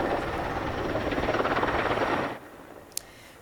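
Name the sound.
firefighting helicopters over Athens wildfire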